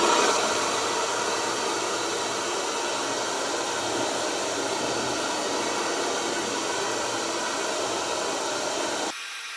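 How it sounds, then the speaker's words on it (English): A hair dryer blows in a steady, loud whooshing roar for several seconds, then shifts slightly near the end, with no talking. "now I will take a little heat and move the dryer like this"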